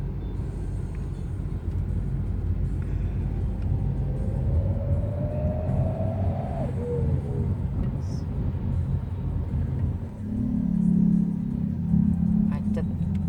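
Dense city traffic jam in Banda Aceh, Indonesia, at dusk before breaking the fast: a steady, loud rumble of many car and motorbike engines fills the scene, with people talking nearby throughout.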